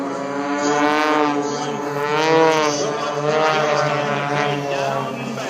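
A propeller aircraft maneuvers at a Wisconsin airshow, its engine a loud, continuous drone whose pitch rises and falls as it turns, with no break throughout.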